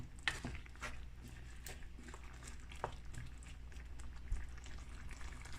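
Jamaican curry fish rundown in coconut milk bubbling toward a boil in a pot, a soft steady simmering patter with occasional pops and faint kitchen clatter, fairly quiet throughout.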